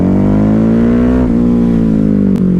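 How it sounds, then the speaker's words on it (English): A Ducati Hypermotard 950 motorcycle accelerates at full throttle in second gear from low revs, a loud close engine drone rising steadily in pitch. "look, bogging, second gear, full throttle."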